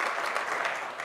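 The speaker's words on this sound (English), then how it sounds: "clap it up" A church congregation at a Church of Christ service breaks into dense, steady applause, close and fairly loud, with no speech over it.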